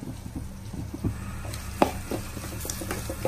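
Chopped tomato frying in a pan with chicken sausage, a soft steady sizzle with occasional stirring scrapes and taps, close and quiet, with no talk over it.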